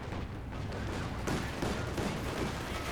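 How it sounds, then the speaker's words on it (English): In a Company of Heroes 2 4v4 battle in Lienne Forest, a .50 cal machine gun fires on a half-track, heard as dense, continuous gunfire and rumbling battle noise with no pause. "50 cal there, doing quite a lot of damage to the half track, forcing it away."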